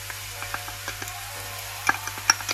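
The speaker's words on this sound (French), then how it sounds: "on la fait bien cuire à nouveau et je rajoute en même temps l'ail" Garlic sizzling in a pan alongside other cooking ingredients, a quiet steady frying hiss with scattered small pops and crackles, close and without talk.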